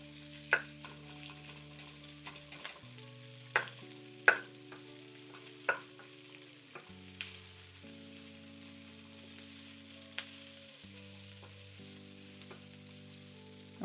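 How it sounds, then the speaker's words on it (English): Garlic fries in a pan while a utensil stirs it, giving a faint sizzle punctuated by sharp scraping clicks at irregular intervals over soft steady tones. "Now we're going to go ahead and throw in garlic."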